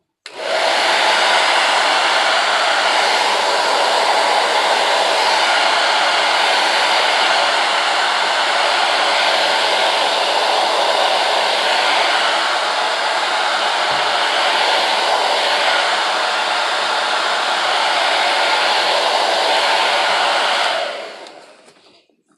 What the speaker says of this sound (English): so I'm gonna kind of blow dry some of this to